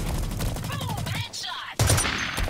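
AK470 rifle fire in the Blacklight Retribution video game, heard as rapid, loud bursts of shots with a brief pause before another heavy volley, with faint game sounds mixed in.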